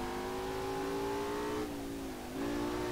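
Audi R8 with a naturally aspirated V10 in Assetto Corsa, racing on a mountain touge road, holding a loud steady rev that dips briefly then climbs again, engine alone with no talk.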